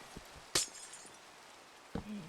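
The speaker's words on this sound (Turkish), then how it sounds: "Biri cam kırdı önünde." Glass breaks in the Minecraft video game: one sharp, bright shatter, then a second smaller crack a moment later, both brief against a quiet background.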